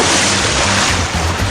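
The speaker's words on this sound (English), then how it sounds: "That's the sound of cool, refreshing water as you splash into your new Radiant Pool" A dense burst of rushing, splashing water as someone plunges into a pool fills the clip, loud and close, with churning low sloshes underneath.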